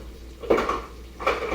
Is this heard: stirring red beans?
yes